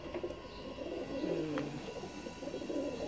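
A pigeon coos up close, a low soft rolling coo that carries steadily under a constant background hiss, with no speech.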